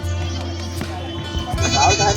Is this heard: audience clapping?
no